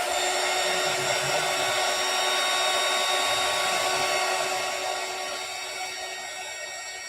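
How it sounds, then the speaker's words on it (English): A heat gun blows over craft paper, giving a steady, loud whirring hiss with a high fan whine that holds for several seconds and then gradually fades as it is moved away. "I'm going to run the heat gun over it."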